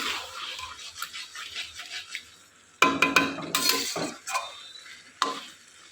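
Mutton cooks in a pot on a home stove as a utensil scrapes and clinks against the metal in bursts, with a soft sizzle between strokes, close by and moderately loud.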